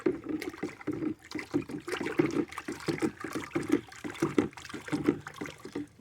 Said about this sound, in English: You want to stir, make sure that Epsom salt is completely dissolved.